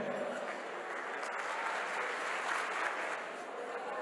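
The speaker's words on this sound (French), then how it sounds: "Sous vos applaudissements s'il vous plaît" A crowd at an Assyrian Akitu new year celebration in Paris applauds as a local singer is welcomed to perform. The continuous, moderately loud clapping stays even for the whole stretch.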